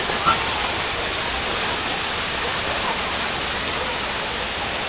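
A steady, loud roar of Jalagamparai waterfall in Tirupathur fills the scene, constant broadband rushing with no pauses, close by and unbroken throughout.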